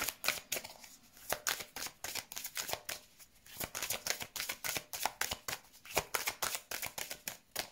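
Tarot cards are shuffled up close for a reading, a quick, steady run of soft riffling snaps and flicks.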